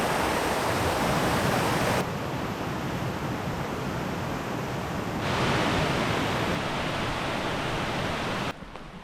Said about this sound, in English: one last look at Hell's Hollow waterfall before we head on back to start the main trail of the day